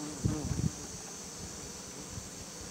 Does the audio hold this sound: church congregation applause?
no